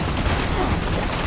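Gunfire in a Fallout-style shooter game: a dense, continuous burst of rapid shots fills the clip at steady loudness, with no talk over it.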